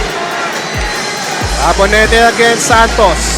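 A basketball arena crowd at the PSU roars steadily throughout, while a commentator calls the play loudly over it and shoe squeaks or bounces cut through now and then.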